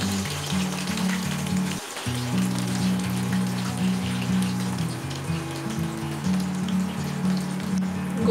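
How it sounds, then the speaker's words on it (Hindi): Medium-sized cauliflower pieces fry in leftover oil in a pan, a steady dense sizzle and crackle that holds at an even level throughout, with a faint low hum underneath. "अब इसे भी इस बचे हुए तेल में फ्राई कर लेंगे"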